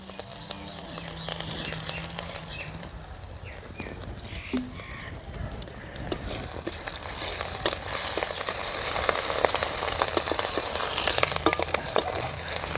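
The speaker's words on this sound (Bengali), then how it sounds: "গ্রেট করে রাখা আদা দিয়ে দেবো তেলের মধ্যে আর একটু তেল দিয়ে দেবো সর্ষের তেল" Grated ginger in mustard oil sizzles quietly at first and then grows into a busier, louder crackle with scattered stirring clicks.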